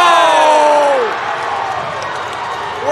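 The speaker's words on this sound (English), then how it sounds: "Listen to this crowd." A high school boys' varsity basketball crowd roars and cheers in a gym, loud and sustained at first, then easing into a softer murmur with a few shouts.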